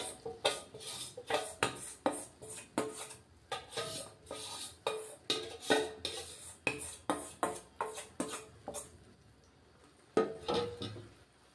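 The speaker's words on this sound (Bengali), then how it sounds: "এই যে দিয়ে দেবো ফ্রাইং প্যানে" Semolina (suji) batter going into a frying pan for a quick breakfast, heard as a steady run of sharp clinks and scrapes of utensils against the pan, roughly evenly spaced and close up, with no talking.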